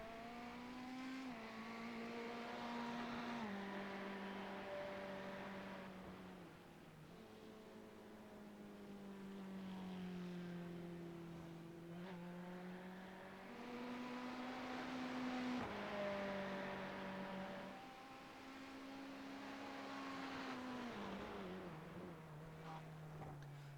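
A Corvette race car rolls down pit road for a scheduled stop in a sports car race, its engine droning steadily with shifting pitch, rising and falling over the long stretch, with no talk.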